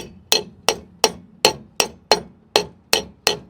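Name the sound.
hammer striking Volkswagen Jetta rear brake drum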